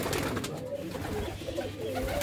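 Pigeons in a coop coo softly and continuously in a brief, low, murmuring stretch, near and fairly quiet.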